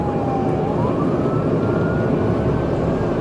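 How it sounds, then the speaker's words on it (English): A steady wailing police car siren rises and holds over a loud rumbling background, continuous and fairly distant, during a pursuit. "The cops turned on their emergency lights and sirens and initiated a pursuit."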